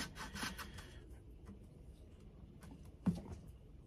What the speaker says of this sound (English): don't get too crazy sanding it